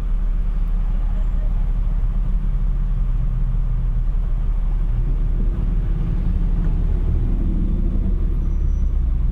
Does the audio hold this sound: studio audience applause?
no